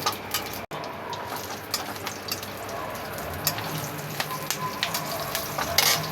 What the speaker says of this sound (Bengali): আমি ফোড়নে এগুলো সব দিয়ে দিলাম